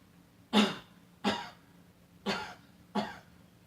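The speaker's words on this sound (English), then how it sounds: "As you see, if I cough" Four short, dry coughs come at roughly even intervals, close up and moderately loud, with quiet pauses between them.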